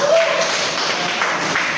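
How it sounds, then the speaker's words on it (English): A classroom audience claps for two curriculum-development presenters, a moderate, diffuse patter of applause with a voice briefly heard over it. "can we give a clap for both Rana and"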